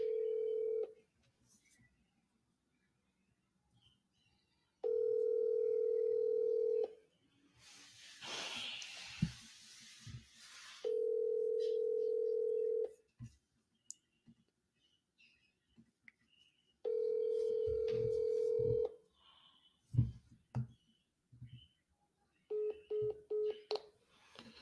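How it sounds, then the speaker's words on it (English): Telephone tones for placing a call: several steady dial-tone bursts of a couple of seconds each alternate with quick dialing beeps, a loud burst of noise and faint breathing, with no talking. "Call the brother right now on his phone."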